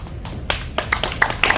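A handful of scattered hand claps at a poetry recital concert, sparse and fairly close, tapering off rather than building into full applause.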